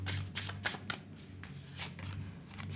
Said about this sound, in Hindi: मैं फिर भी थोड़े से कार्ड्स आप लोगों के लिए निकालूंगी ज़रूर